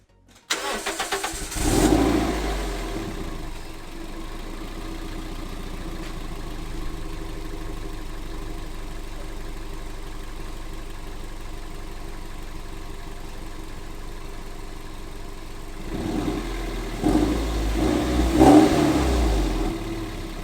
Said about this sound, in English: Let's start the engine and see what happens.